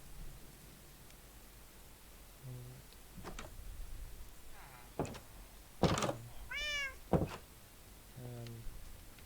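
Several short cat meows from Minecraft cats, spaced apart over a quiet game background with a few soft thunks between the calls.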